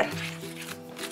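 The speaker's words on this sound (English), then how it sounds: "So now we stir." A Kracie Popin Cookin DIY pizza candy kit mixture is stirred in its plastic tray, giving soft, continuous scraping and light tapping against a faint tonal background hum.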